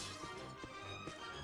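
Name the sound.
glass smashing in the Ghostbusters video game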